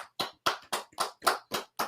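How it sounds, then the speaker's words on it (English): A small group claps in a post-game show chat, eight or so crisp, evenly spaced claps over about two seconds, quiet and close. "Clap it up for the Breeze chat real quick, man."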